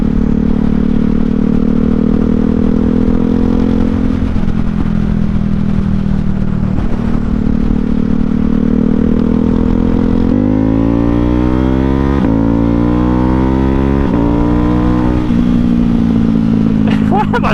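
A Ducati Hypermotard fitted with an unbaffled Austin Racing slip-on exhaust rides past, its engine droning loud and close and rising through several revving pulls and gear changes, with wind rush throughout.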